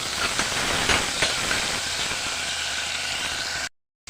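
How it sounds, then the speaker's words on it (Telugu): Tomato and cumin frying in a tablespoon of hot oil for pepper rasam, a loud steady hiss and sizzle running close and unbroken, then cutting off abruptly to silence near the end. "వన్ టేబుల్ స్పూన్ ఆయిల్ కొంచెం జీలకర్ర టమాటా కలుపుకుందామండి"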